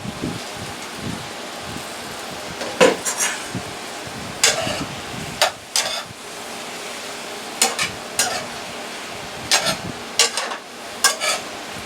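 A plum and vegetable stir-fry cooks in a pan with a steady sizzling hiss. Irregular sharp scraping and clattering bursts break through from stirring, close and moderately loud, with no talk.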